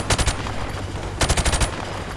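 Modern Warfare Remastered campaign gunfire from the mission The Hunted: two close, loud bursts of rapid automatic shots, the first short, the second longer, over a constant background rumble.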